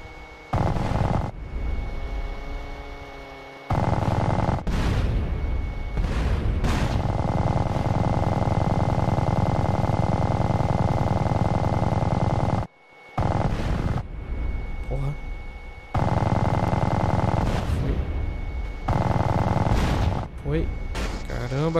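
Video game gunfire from GTA San Andreas, loud and dense bursts of shots and booming blasts coming in long sustained stretches broken by brief silent gaps, with a steady engine-like drone beneath.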